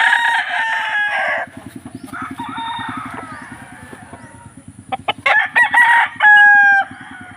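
Fighting roosters crow loudly nearby in a backyard, one at the start and more near the end, with rapid rhythmic clucking or tapping in between.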